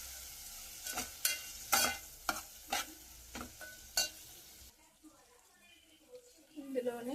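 Tomato and tamarind mixture stirred in a pan, a run of scraping, sizzling strokes at a steady rhythm, close and fairly quiet, fading to a softer, gurgling simmer near the end.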